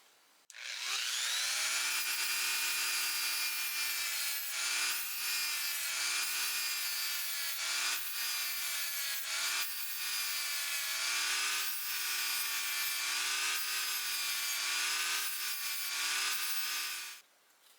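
Spinning bristle wheels clean a vintage wood-handle putty knife, giving a steady, loud whirring motor whine with a scratchy brushing texture. It starts up, holds for about fifteen seconds with slight wavering, then cuts off, with no voices.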